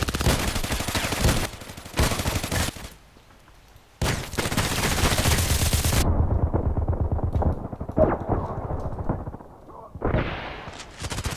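Sniper rifle shots in the online shooter Contract Wars, loud sharp game gunfire bursts with brief quiet gaps, ringing over a busy in-game soundscape with no talk.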